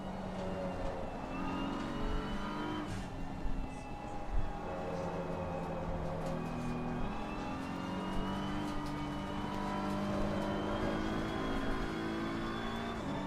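Race cars in a racing video game circle Suzuka, steady engine drone with rising and falling revs from the player's car and others close behind, moderately loud and continuous.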